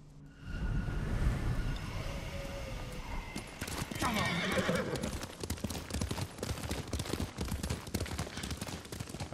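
In the video game Ghost of Tsushima, a horse gallops with loud, steady hoofbeats and a whinny, the rhythmic clatter continuing throughout while characters talk over it.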